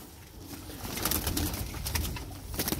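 Soft pigeon coos mixed with rustling and light flapping nearby at a coop, several calls over a few seconds.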